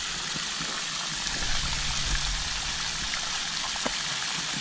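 Fresh creek water runs from a pipe into a pond, a steady broadband rush and trickle that stays even throughout with no voices.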